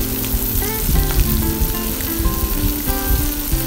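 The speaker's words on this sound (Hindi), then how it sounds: "ये सब मसाले डालकर इसको अच्छे से फ्राई कर लेते हैं" Finger fish frying in oil with mustard seeds and nigella seeds, a steady, close, crackling sizzle with spattering bursts throughout and no talk.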